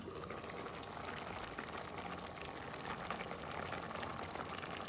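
A pot of soy-braised beef with eggs and garlic simmers with the lid on, giving a soft, steady bubbling and liquid hiss that stays faint and even throughout.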